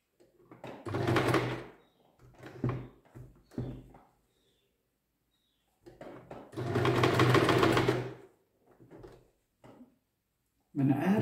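A sewing machine stitches fabric in several bursts of varying length, loud and close, with pauses between runs and a short restart at the end.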